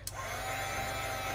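Hair dryer blowing on a freshly painted acorn craft, switching on with a brief click and then a steady, close whirring roar that holds without a break.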